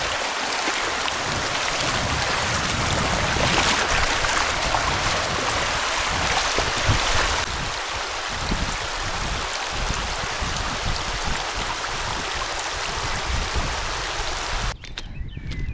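A cold mountain river near Gelendzhik flows along its rocky bed with a loud, close, constant rushing and burbling that fills the whole stretch without talk.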